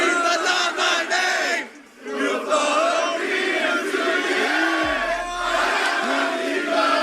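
A WWE Backlash arena crowd in Lyon, France roaring and chanting in unison, loud and sustained with a brief dip before swelling again, dense voices filling the space.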